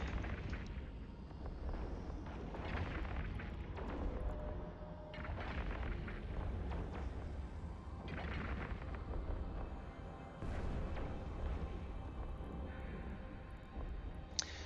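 Spaceship weapons fire in the space game EVE Online as a dense, continuous rumble of booms and blasts, with louder bursts now and then over a steady low roar and no talking.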